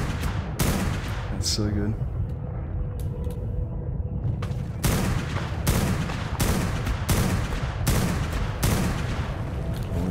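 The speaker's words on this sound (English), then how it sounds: "He's put up a mini gun turret, that's awesome." A minigun turret in ARK: Genesis fires in long sustained bursts of rapid loud gunfire, broken by short pauses, with someone speaking briefly over it.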